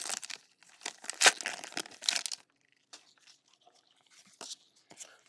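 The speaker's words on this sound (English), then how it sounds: "I feel like it takes forever to open these packs" Foil wrappers of Magic: The Gathering Streets of New Capenna booster packs crinkling and tearing up close in several quick bursts, followed by quieter sporadic rustling.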